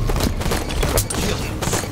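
Dense enemy gunfire in the Halo 5 video game, a continuous fusillade of rapid shots and blasts that stays loud and unbroken from start to finish.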